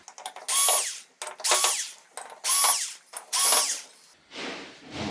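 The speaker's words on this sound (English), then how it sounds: "we are going to need to get these 4 screws out just so we can even see what's underneath" Four short whirring bursts from a power driver backing screws out of a metal plate on a Samsung UN60FH6003 television, each burst loud and separated by quiet gaps.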